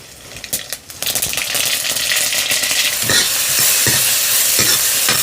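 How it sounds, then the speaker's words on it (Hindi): Mustard seeds hit hot oil for a dal tempering in a mountain village kitchen, starting with a few sharp pops and then swelling into a loud, steady crackling sizzle with scattered spatters. "चलिए सरसों का बीज का तड़का भी मार देते हैं"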